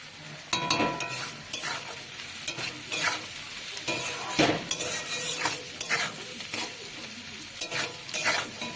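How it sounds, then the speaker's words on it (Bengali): Capsicum and onion sizzle in a pan, with spatula scrapes and stirring strokes at a steady rhythm over a constant hiss of frying. Nobody speaks. "লবণ দিয়ে আরেকটু নেড়ে নেব"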